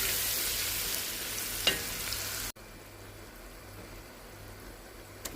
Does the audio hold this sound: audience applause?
no